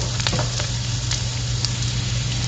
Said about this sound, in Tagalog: Sigisa natin ang garlic hanggang sa hindi lumabas ang kanyang amoy